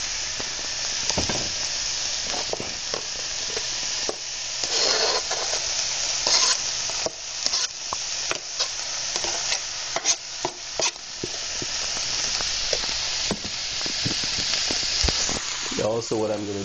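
Eggplant frying in a hot pan, a steady close sizzle and hiss broken by repeated sharp clatters and scrapes of stirring and tossing, running continuously for the whole stretch.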